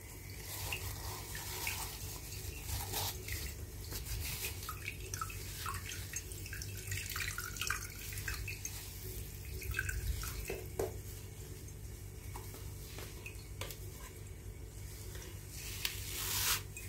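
Liquid kashk whey draining through a tightly woven rice sack into a colander, a steady close trickle and dripping with scattered small drips throughout, no talk.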